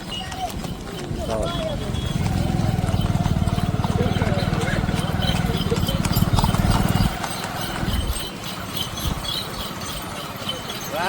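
A horse being ridden gives a steady, close clip-clop of hooves that keeps a regular beat throughout, with people talking over it.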